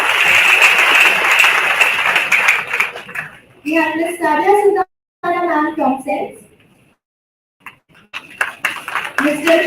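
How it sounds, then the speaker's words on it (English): An audience claps warmly to welcome panelists onto the stage at a college panel discussion: a loud burst of applause at the start, a man introducing the next guest over a microphone, then another round of clapping rising at the end. "Please give them a huge round of applause."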